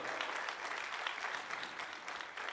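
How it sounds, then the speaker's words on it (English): An audience claps steadily at an 8th grade graduation, a dense wash of applause from a crowd that holds at an even level from start to finish. "Can you give a hand clap for them as well?"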